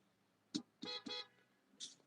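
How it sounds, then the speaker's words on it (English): A few short, faint honks from a car horn, one brief tap followed by two longer blasts and a final short toot, heard at a distance. "She want me to honk the horn."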